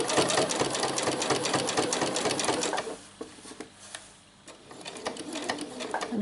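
A sewing machine stitches a shirred elastic summer dress in fast rhythmic bursts, pausing briefly midway before running again, close up with no talking.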